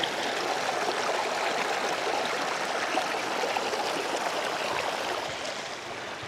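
River water pours over a small waterfall at Pasong Ragattan in Indang, Cavite, a steady broad rushing and splashing that stays nearby and even throughout, with no voices.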